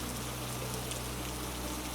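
Steady, soft rain falling, an even wash of drops with a low constant hum underneath, quiet and unbroken throughout.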